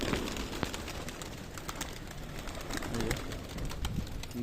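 Domestic Giribaz pigeons cooing in a home loft, a soft low murmur of coos running steadily under bird rustling and faint background noise.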